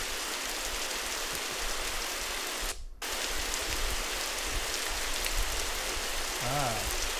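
Steady synthetic rain hiss from an ambient sound app, a dense even patter throughout with one brief dropout near the middle and faint tonal blips at the end.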